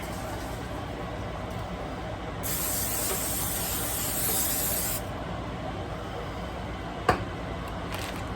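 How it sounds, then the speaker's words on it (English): A short aerosol spray of olive oil into a foil pan hisses for about two and a half seconds against a quiet room background, followed a little later by a single sharp tap. "I'm going to go ahead and spray it with some olive oil"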